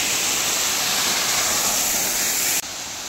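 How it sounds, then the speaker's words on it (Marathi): Steady roar of a waterfall at Daryaghat in the Junnar hills, a dense broadband rush that holds constant, then drops slightly in level near the end, with no voices. "सुंदर असा धबधबा,"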